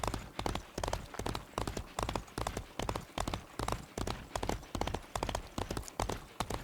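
A horse gallops steadily in the Disney Infinity 3.0 game as a rider heads off to collect potion bottles. Rhythmic hoofbeats continue close and even throughout, with no talking.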